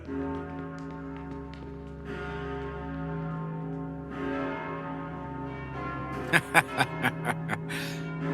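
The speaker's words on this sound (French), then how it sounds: "Ces cloches annoncent le chaos, c'est certainement pour ça que j'aime autant leur son." Cathedral bells ring with long, overlapping resonant tones, joined near the end by a short run of sharper strikes, in the anime The Eminence in Shadow.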